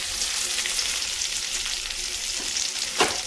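Green chilies and coconut pieces frying in oil for a mushroom curry give a steady, close sizzle with a few light stirring scrapes near the end.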